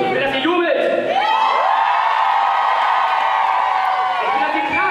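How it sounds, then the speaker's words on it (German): A large crowd at a live event cheers loudly and continuously, with whoops and shouted voices rising over a dense, sustained roar throughout. "Ich will, dass ihr jubelt."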